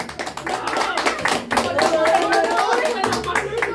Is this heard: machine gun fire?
no